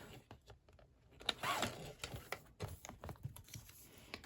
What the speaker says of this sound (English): I'm just gonna cut off that little strip